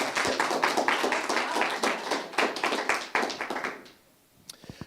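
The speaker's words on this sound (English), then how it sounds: "Big round of applause for this," An audience at a community gathering claps in a dense burst of applause that runs loud for about four seconds, then quickly fades to a few scattered claps and taps.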